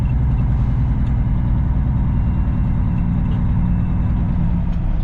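A semi truck creeps slowly between fuel station pumps, its heavy diesel engine producing a steady, loud, low rumble close by with no break.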